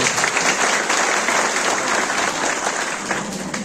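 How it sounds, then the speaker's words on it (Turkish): Dense, even applause from an audience at a political party breakfast gathering in Turkey, honoring the federation president, sustained loud clapping from many hands without a break. "Güçlü bir alkış alabilir miyiz Federasyon Başkanımıza?"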